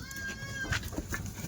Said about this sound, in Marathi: पूर्ण गामी शेळ्या आहे आकाश दादा.